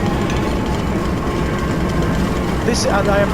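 Heavy mechanical engine of the machine in Amnesia: A Machine for Pigs grinds and ratchets in a dense, loud, continuous churn, with a brief higher metallic whine near the end.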